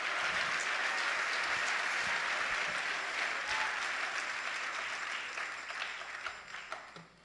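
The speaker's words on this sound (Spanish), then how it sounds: "Denle un aplauso fuerte al Señor." A church congregation applauds loudly in a dense, sustained wash of clapping that gradually thins and fades toward the end.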